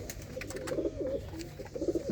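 Moti pigeons in a loft give soft, low, repeated coos, fairly faint and close together, with no talking.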